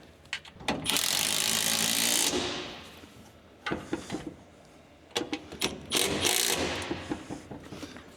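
Ratcheting wrench tightening bolts on an air valve at the pedal of a 1953 Mack A40 truck, with bursts of quick clicking and mechanical rasping spread through the clip, fairly close, with no talking.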